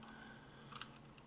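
A few quick, faint keystrokes on a computer keyboard while coding Kotlin, soft clicks clustered near the end of a short quiet stretch.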